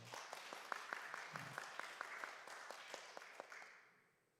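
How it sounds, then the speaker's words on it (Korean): A church congregation claps together during a Sunday worship service, a steady run of faint, distant handclaps that taper off and fade out near the end. "박수 한번 해봐요."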